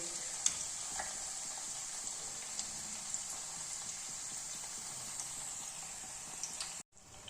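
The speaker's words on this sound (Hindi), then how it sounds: "फ्राई नहीं करना है, बस शैलो फ्राई करना है इनको" Keema parathas shallow fry in a pan, a steady close sizzle with occasional small pops and crackles, no talking, cutting off abruptly near the end.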